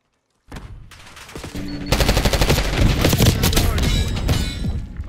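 Loud gunfire in the video game Black Ops 6 sets in after a short silence, a dense rattling stream of automatic shots and impacts that grows heavier and continues to the end, with speech in the background.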